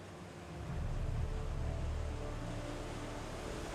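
Flowing water at Erawan waterfall in Thailand, a steady broadband rushing that swells in after a brief quieter start and then holds even and moderately loud, with no voices.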